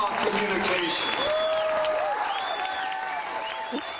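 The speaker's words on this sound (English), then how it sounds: "you hear the crowd cheering" A crowd cheers and applauds during a played back political speech, with steady clapping and whoops over a thin, band-limited recording, while voices rise over the noise.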